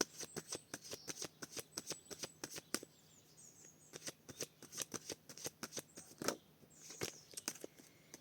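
A deck of playing cards is cut and riffled with rapid crisp snapping bursts, close and clear, with short pauses between shuffles and no talking.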